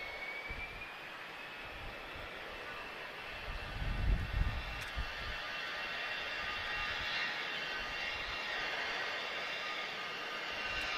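British Airways airliner taxiing at Lisbon Airport, a faint distant steady jet engine whine and rumble that swells briefly midway and continues evenly.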